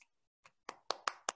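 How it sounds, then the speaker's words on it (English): A few scattered, quiet hand claps, four or five separate slaps that pick up slightly in pace, acknowledging a guitar performance at a virtual youth talent show. "Give him a round of applause."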